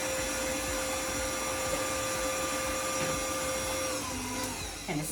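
Electric mixer blending apple fritter bread batter in a bowl, a steady close motor whine with constant whirring that holds level throughout, then falters at the end.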